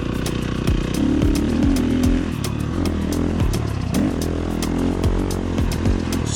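A motorcycle fitted with a Tokyo Mods Vortex ECU runs slowly in fourth gear with the clutch barely touched, its engine a close, loud, chugging low rumble with rhythmic pulses and rattling clatter throughout.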